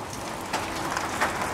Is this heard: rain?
yes